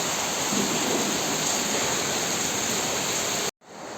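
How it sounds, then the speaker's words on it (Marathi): Heavy rain pouring steadily onto wet roads and metal roof sheets, a dense, even hiss that cuts off abruptly near the end. "आता अजून पाऊस चालू आहे. आत्ताच चालू झाला आहे बघा."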